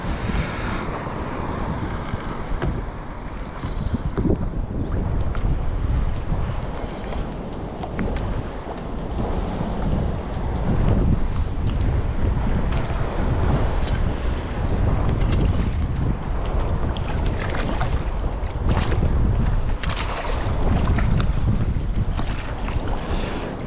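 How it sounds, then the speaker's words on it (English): Steady rushing ocean water and waves churn beneath heavy wind buffeting the microphone while solo kayak fishing off the Far North, a continuous loud roar with no talking. "Kind of got to keep an eye on some of the waves though."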